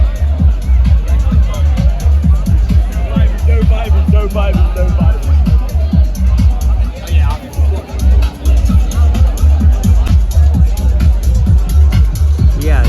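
A dense crowd packs a bar party on Koh Rong island, loud overlapping chatter and shouting filling the space, with thumping low DJ music pulsing underneath.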